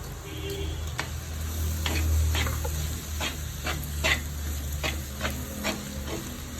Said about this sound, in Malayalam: അരപ്പിട്ടൊന്ന് മൂപ്പിച്ചു കൊടുക്കാം